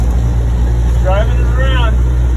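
A Scout 800 with a fuel-injected, supercharged engine drives along, its low steady engine drone filling the background while a person talks briefly over it.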